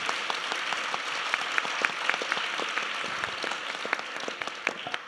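A festival audience applauds steadily, a dense wash of many hands clapping with scattered sharper claps standing out, fairly distant and moderately quiet, with no talking over it.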